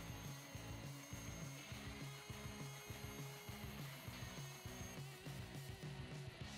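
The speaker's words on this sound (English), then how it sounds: "The second way to cut these pieces out, and of course my preferred method, is to use my bandsaw." A bandsaw hums steadily while cutting foam pieces for a dice tower, its blade tilted at 45 degrees, with a repeating rhythmic rasping pulse throughout; quiet, close and continuous with no voices.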